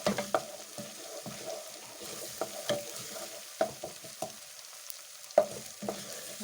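Onions fry quietly in a pot for Kenyan coconut beans, with a soft sizzle under repeated light scrapes and clicks of a spoon stirring them.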